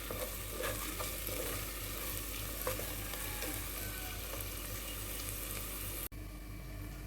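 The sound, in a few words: frying tomatoes in a pan for palm fruit curry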